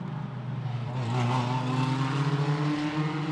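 Formula 4 race cars run on the Macau street circuit during qualifying at the 2022 Macau Grand Prix, their engines a loud, continuous droning whine that climbs slightly in pitch without pause.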